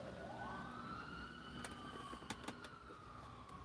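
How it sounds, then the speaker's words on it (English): Fire truck and ambulance sirens wail and sweep in pitch as the vehicles pass at a distance, faint but clear over low traffic rumble, with a few sharp clicks partway through. "As the fire truck and ambulance passes by"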